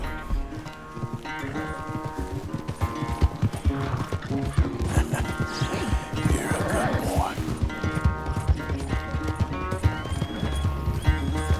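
Hooves clip-clop steadily as a horse runs in a race in Red Dead Redemption 2, with a whinny and game music underneath and a voice speaking briefly.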